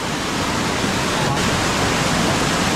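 Water rushing through a stream in the Konkan where traditional fishing takes place, a loud, unbroken broadband roar close by with no distinct pauses.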